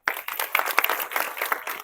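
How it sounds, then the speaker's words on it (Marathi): An audience applauds after a film screening of Thangalaan, a brief burst of many hands clapping together, dense and fairly loud before fading slightly. "जोरदार टाळ्या वाजवा"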